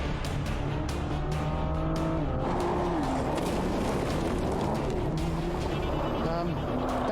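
Race cars launching from a standing start, engines loud and close with rising gear-change whines overlapping, tires squealing as the pack pulls away, under steady crowd-like din.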